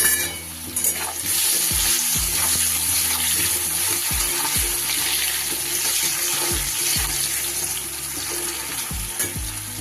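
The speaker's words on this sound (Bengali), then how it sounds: "ভালো করে আলুটা ভেজে নেব" Potatoes frying in oil with salt and turmeric, a steady dense sizzle and crackle throughout, with a few soft knocks of a utensil stirring the pan.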